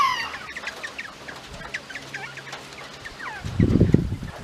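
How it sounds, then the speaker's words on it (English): A flock of young hens clucking close by, repeated short chirpy clucks throughout, with a low, louder cackle near the end. "There's one hen that just raised a couple."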